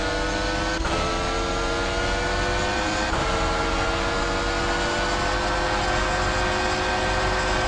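Single-seater racing cars in the Monoposto game scream past at high revs, loud and continuous, with gear shifts marked by sudden pitch drops before the whine climbs again.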